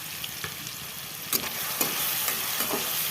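Onion, tomato and garlic sizzle in hot oil, a steady close hiss of frying with a few soft stirring scrapes and clicks.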